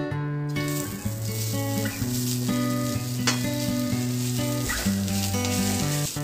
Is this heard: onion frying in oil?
yes